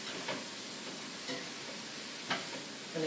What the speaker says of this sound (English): stir my cabbage.